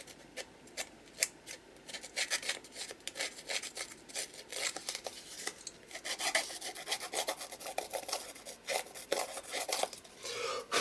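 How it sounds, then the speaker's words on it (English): Rasping scrape of a distressing tool worked along the edge of a Poe-themed paper craft, a run of short dry strokes, close and fairly quiet, growing busier and denser toward the end with no talking. "I'm going to distress the edge and then come in with the distressing."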